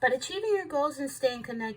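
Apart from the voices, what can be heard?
None of the usual background noises is heard.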